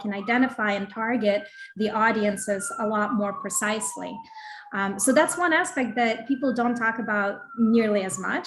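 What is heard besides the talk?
siren passing outside during talk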